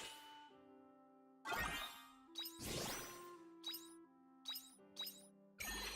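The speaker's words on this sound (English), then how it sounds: "let's go ahead and replace that return bell we just used" Bell-like dings and chimes from a return bell item in the video game Harvestella, several bright separate strikes with ringing tails over soft background game music, no talk.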